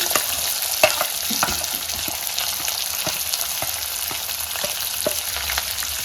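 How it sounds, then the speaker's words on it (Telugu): Tempering sizzles steadily in hot oil with onions, shallots, curry leaves and turmeric for bitter gourd karam, a close, continuous frying hiss broken by regular scrapes and taps of stirring, with no talk. "సో తాలింపు బాగా వేగిందండి. ఇప్పుడు మనము ఆనియన్స్, చిన్నుల్లిపాయలు, కరివేపాకు, పసుపు వేసుకున్నాము."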